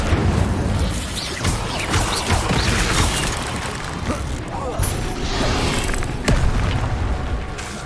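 The Incendio fire spell is cast in the Hogwarts Legacy video game, giving loud, booming fiery bursts and crashes layered with game effects and a voice, continuous over several seconds.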